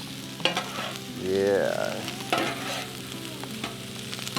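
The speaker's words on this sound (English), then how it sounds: "I need to flip this rice probably because it's been just kind of sitting for a while." Rice sizzles and fries on a Blackstone griddle as it is flipped and stirred with a spatula, with steady close crackling and a swell of hissing in the middle; a single brief word is spoken.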